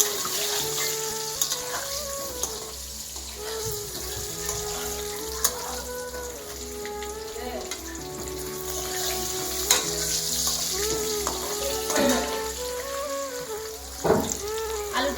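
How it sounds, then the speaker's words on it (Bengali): Potatoes seasoned with salt and turmeric fry in a pan for a chicken changezi dish, sizzling continuously with occasional stirring clinks and scrapes, close and steady, with a few faint background noises. "আলুটা লাল লাল করে ভেজে নেবেন আপনারা।"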